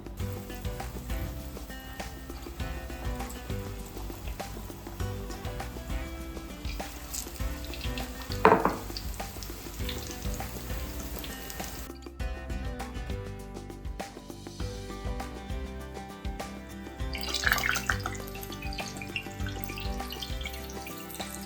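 Batter-dipped chillies for mirchi bajji frying in hot oil, a steady close sizzle with occasional louder bursts as pieces drop in or are moved, running continuously without talk.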